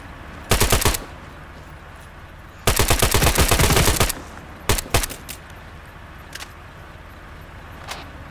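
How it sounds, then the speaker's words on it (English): Automatic gunfire from the military shooter game ArmA 3 comes in three loud, close bursts: a short one, a longer sustained volley, then a quick double, with a few faint distant shots trailing off and no talking. "I will shoot you in the face."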